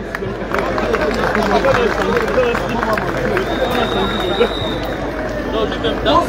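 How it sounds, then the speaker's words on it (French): Audience at an evening gathering applauding a female music contest winner, sustained dense clapping mixed with crowd chatter and voices, loud and close throughout. "Edith Lugla, ladies and gentlemen, let's clap for her."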